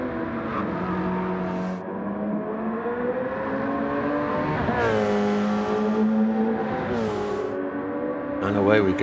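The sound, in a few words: race cars hurtling down the Mulsanne straight, from a racing video game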